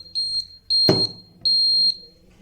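Aqualarm water-drinking reminder device sounding three loud, shrill electronic buzzer bursts, each under a second with short gaps, plus a brief clunk between the first two.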